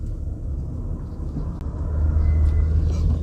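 A truck passing on a road construction site, a low engine rumble that grows heavier and closer toward the end, with no talk.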